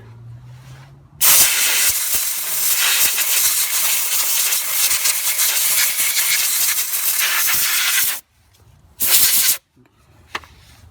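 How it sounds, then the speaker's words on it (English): Compressed air blasts onto a Toyota Corolla front brake pad in one long, loud, steady hiss lasting about seven seconds, then two short sharp bursts of the same air after a pause; no talking. "But first, compressed air again."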